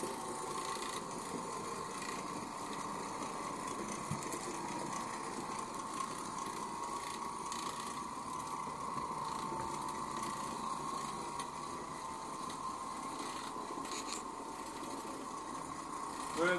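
Oreck Orbiter floor machine scrubbing carpet in a home, a steady, even motor hum with a buzzing texture that runs unbroken at close range.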